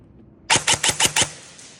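A Lancer Gen-4 airsoft gun with a Gate Aster trigger unit fires a quick, sharp five-shot burst, close and loud, followed by a short fading tail and no voices.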